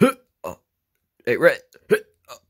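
A cartoon bird gives several short, sharp hiccups between bits of character speech.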